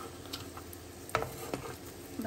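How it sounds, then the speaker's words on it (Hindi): Kebabs frying in a pan give off a steady, soft sizzle and spatter close by, with a few louder pops and crackles scattered through, and no one speaking. "कबाब फ्राई"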